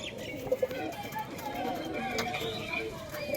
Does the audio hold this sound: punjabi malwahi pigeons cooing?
yes